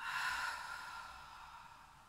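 A single audible ocean-breath exhale during a Pilates exercise for seniors, a soft breathy whoosh that swells quickly then fades away over about two seconds, quiet and close with no talking.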